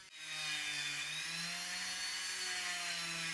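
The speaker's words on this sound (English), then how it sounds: "I have to use the Dremel to remove some material here and there and add some grooves" Dremel rotary tool grinding away material on a part during a Compaq Portable III computer repair, a steady high-pitched whine with slowly wavering pitch, close and continuous.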